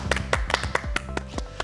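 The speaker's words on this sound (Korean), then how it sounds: "교수께 다시 한번 박수 부탁드리겠습니다." Audience applause after a professor's lecture on a Korean television morning show, a short spell of scattered, sharp individual claps from a small crowd, nearby and with no talk.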